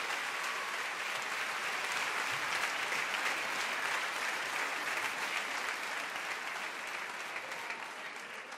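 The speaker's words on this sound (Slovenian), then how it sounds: "Zato veliki aplavz za organizatorje" Sustained audience applause for the organizers of a children's song and dance event, a thick, even roar of clapping from a large crowd that holds steady and tapers slightly toward the end.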